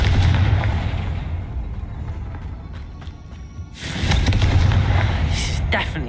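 Booming fiery blasts from the Confringo explosion spell in the game Hogwarts Legacy, two loud rumbling bursts with crackling debris, separated by a quieter stretch.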